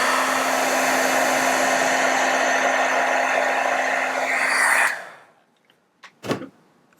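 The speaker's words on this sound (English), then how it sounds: "I'm also going to heat up my heat tool a little bit before going into this first one" A heat embossing heat tool blows a steady, loud whooshing hum for about five seconds, then cuts off, leaving quiet with a few soft handling knocks.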